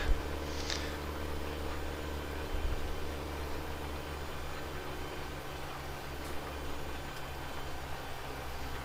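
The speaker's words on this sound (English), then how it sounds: "I really like the tractor" A tractor engine drones steadily in Farming Simulator 17 during grass seeding on a Northern Alberta farm. The low, even rumble runs unbroken and alone, with no talk.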